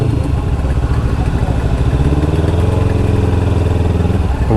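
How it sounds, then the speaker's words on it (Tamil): Modified Kawasaki Ninja 300 with an Akrapovic exhaust, loud and close, idling with a deep, throbby rumble and a slight lift in revs near the end. "இதோட எக்ஸாஸ்ட் வந்து இருக்குது. லிட்ரலி என்ஜாயிங் தி சவுண்டு."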